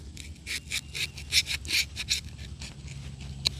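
A fixed-blade GTKii GTK37 knife saws through roughly half-inch twisted sisal rope, giving several close, rasping back-and-forth strokes with fibrous scratching, ending in a brief sharp snap.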